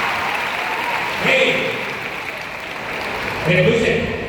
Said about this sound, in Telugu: Give a big round of applause.